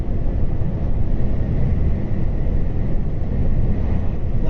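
A new Volvo FH 540 truck with a dual-clutch gearbox cruising on a UK road, a steady low engine drone with road and wind noise, constant and even throughout with no voices.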